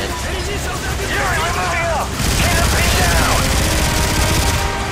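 Sustained automatic gunfire rattles through a Call of Duty MW3 firefight on Wii, dense rapid bursts with swooping whistle-like effects, loud and continuous across the whole stretch, with a voice talking over it.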